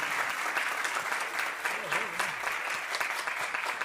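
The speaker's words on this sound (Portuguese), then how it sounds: "Uma salva de palmas." Audience applause at a panel discussion, a dense steady clapping from a seated crowd that carries on throughout at an even level.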